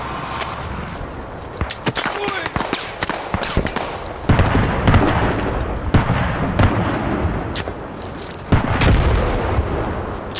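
Gunfire in the military shooter game Squad: sharp, close rifle cracks and heavier booming shots in uneven bursts, some rapid, some spaced, with louder blasts landing mid-clip, over a rumbling battlefield backdrop.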